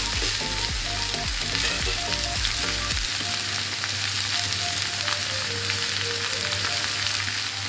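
A prawn fries in a pan with a loud, constant, dense sizzle of oil. Low knocking and rumbling sounds come through in the first few seconds, and the sizzle runs on steadily after that.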